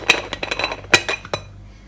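Metal parts of an Italian stovetop espresso maker clink and tap together in a quick irregular series of bright, close knocks, with a short quiet pause before the last few.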